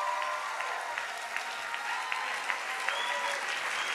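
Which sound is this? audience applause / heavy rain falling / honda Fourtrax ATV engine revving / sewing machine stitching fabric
audience applause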